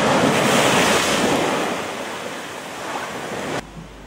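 Sea waves nearly two meters high crash against the shore at Mampie beach in Polewali Mandar, West Sulawesi, during extreme weather, a loud continuous roar of surf mixed with heavy wind buffeting the microphone.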